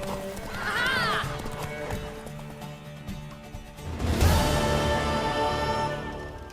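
A horse whinnies loudly in The Witcher 3: Wild Hunt, then hooves clip-clop in a galloping rhythm, with a second neigh rising over the hoofbeats.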